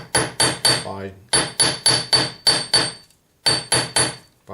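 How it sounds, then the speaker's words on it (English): A hammer strikes metal at the edge of a jeweler's anvil while a bezel is being shaped, giving crisp, ringing blows in quick bursts of three to four, with short pauses between groups, close and loud, with a brief word spoken. "just by working right on the edge and angle the hammer out that way"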